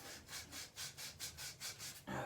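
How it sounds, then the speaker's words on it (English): Faucet stem from a three-handle fixture being sanded with 120 grit sandpaper wrapped around it, a quiet, steady back-and-forth rasping in about eight even strokes, close up and alone. "I just got 120 grit sandpaper. I'm just gonna wrap it around there like that and just kind of go back and forth with it."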